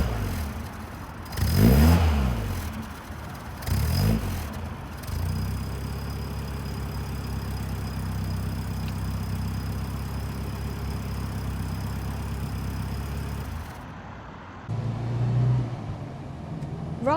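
Engine of a 1960s Riley Elf MK2, a classic Mini, heard from the rear: a steady mid-pitched idle with a couple of quick blips of revs early on, close and loud throughout, without talk.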